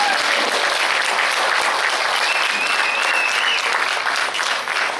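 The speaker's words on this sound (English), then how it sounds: "So let's give them a big round of applause." A conference hall audience breaks into a big round of applause, a steady dense wash of clapping that stays loud and even throughout, with no voices over it.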